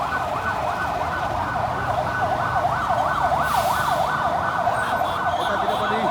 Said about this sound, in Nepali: अब चाहिँ नेपाल पुलिसको दमकल आइरहेको छ।